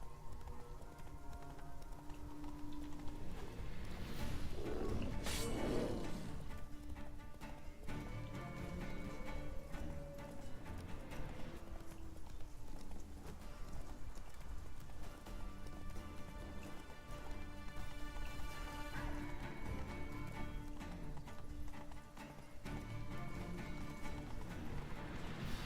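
Geralt's horse Roach gallops in the video game Witcher 3, with steady rhythmic hoofbeats running for a long stretch under music and ambient game sound, a surge of noise near the start and an occasional whinny.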